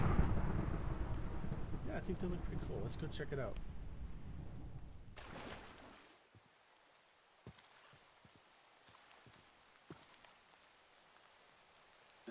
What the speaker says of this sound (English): Bargain for a thunderstorm in the middle of the day.